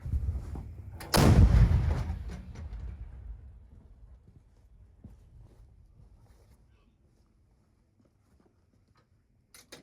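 A single heavy artillery blast booms out loudly on the front near Kurakhove, Ukraine, followed by a long rumbling decay and echo fading over several seconds into near silence.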